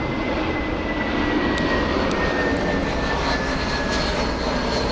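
A passenger jet bound for Atlanta rolls along at Frankfurt airport, its engines giving a loud, steady roar with a faint high whine running through it, and no voices.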